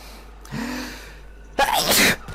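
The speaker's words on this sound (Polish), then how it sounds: "Oj, zaraz kichnę." A man takes a rising, audible breath and then sneezes hard and explosively close to the microphone while playing Warframe on PS4. A quiet hum sits in the background.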